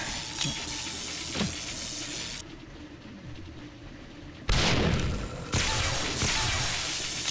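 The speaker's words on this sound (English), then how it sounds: "then we'll get a double explosion" Two grenades go off in 7 Days to Die Alpha 19, loud booming blasts over constant game noise, with a sharp explosive burst in the middle followed by another sustained roar.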